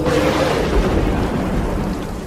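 Heavy typhoon sound effect: deep rolling thunder and dense rain, loud and continuous without voices.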